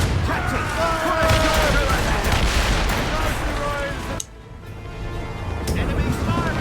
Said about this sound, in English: Firing a volley!